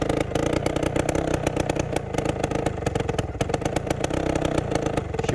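An Adly motorcycle engine with a freshly cleaned carburetor, started cold on the second kick, chugs in a rapid, steady, close putter for a few seconds.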